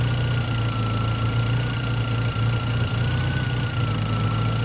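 A VW Passat B4 engine idles nearby with a steady low hum and a constant droning tone, running evenly without revs.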